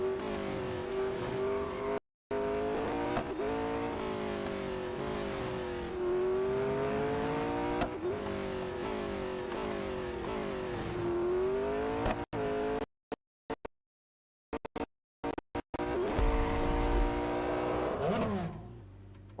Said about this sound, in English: Blimey, this car is fast.